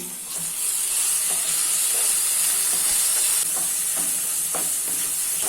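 Fried onions with ginger garlic paste, turmeric and salt are stirred in a pan for chicken fry, a steady close sizzle with a few soft scraping stirs throughout and no talking.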